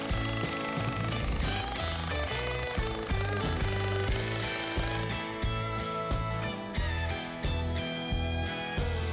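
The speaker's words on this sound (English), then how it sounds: "Rock, paper, scissors, jackhammer." Jackhammer breaking apart rock during roadbuilding, a loud steady rapid hammering with metallic clatter that keeps going throughout, no voices.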